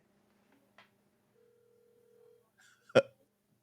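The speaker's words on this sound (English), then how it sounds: "It's ringing." A phone call rings out with one long, steady ringback tone, fairly faint, followed by a sharp click.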